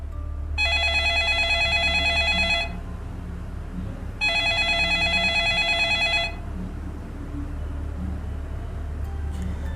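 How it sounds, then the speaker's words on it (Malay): A home telephone rings in two long bursts of bright electronic trilling, separated by a short pause, over a low background hum. "Bunyi telefon rumah itu terus menjerit, memanggil penghuni rumah agar segera mengangkat ganggangnya."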